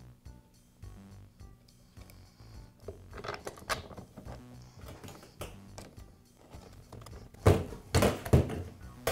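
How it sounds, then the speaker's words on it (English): Parts clatter and thunk softly as the nose piece cover and magazine are refitted on a Max roofing nailer, with quiet irregular clicks and taps and a louder cluster of knocks near the end, all close up. "Now I'll reinstall the nose piece cover and finish up by reinstalling the magazine."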